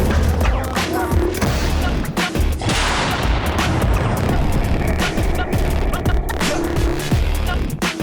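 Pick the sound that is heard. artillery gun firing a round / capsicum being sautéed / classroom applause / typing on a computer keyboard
artillery gun firing a round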